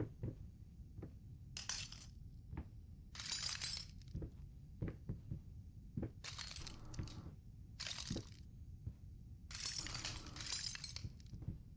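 Glass shatters repeatedly in the horror game Layers of Fear, bright crashing bursts spaced a second or two apart over a low rumble and steady footsteps, fairly faint overall.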